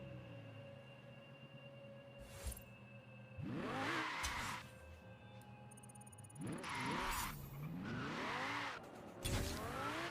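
A car drifts in a racing video game, with the engine note swooping up and down and tire squeal flaring in several long bursts against a steady hum.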